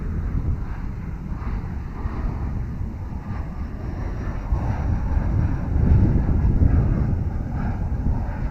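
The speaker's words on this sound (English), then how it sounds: "Embraer E175 for Envoy." An Embraer E175 airliner operated by Envoy passes at Dallas/Fort Worth airport, a steady loud jet roar with wind buffeting the microphone, swelling slightly toward the end.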